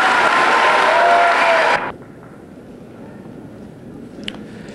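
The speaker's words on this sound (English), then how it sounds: "may we please now have a big round of applause" Loud, dense applause from a commencement crowd at the Admiral King Class of 1996 graduation fills the first couple of seconds, then cuts off sharply into quiet room tone.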